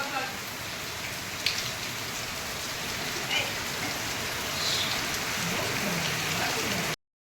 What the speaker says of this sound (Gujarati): અત્યારે ફૂલ વરસાદ ને ફૂલ ગાજવીજ.